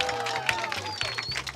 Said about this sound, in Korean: 자, 일단 박수 한번 쳐주세요.